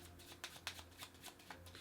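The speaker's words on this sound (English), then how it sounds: "So, cards can be shuffled by a spectator." A spectator shuffles a deck of playing cards during a magic trick, giving a quiet series of crisp riffling bursts and soft slaps in an irregular rhythm, close by and faint, with a low steady hum behind.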